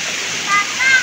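Mahogany Falls in Trece Martires, Cavite, pours as a steady, close rushing of falling water with a constant broad hiss and slight surges near the end.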